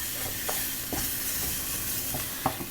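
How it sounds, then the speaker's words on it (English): Jasmine rice and garlic cloves being stirred and toasted in a pan, a steady dry sizzle with soft scraping strokes and a few sharper clicks of the utensil. "we're going to stir this around to get the rice toasted"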